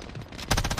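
Gunfire in a video game, a short burst of rapid shots that hits hard partway through and keeps going, loud and close, with no talk.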